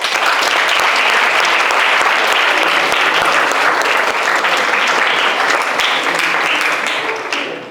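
Sustained applause from an audience at an awards ceremony for a Mamulishvili drummers' group, honoring debutant performers; dense, steady clapping holds loud throughout and tapers slightly at the end.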